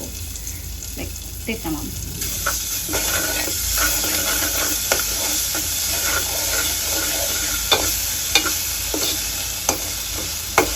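Onions frying with a little ginger and garlic paste for fried rice, a continuous close sizzle with repeated spatula scrapes and clicks against the pan, and a short spoken word near the end.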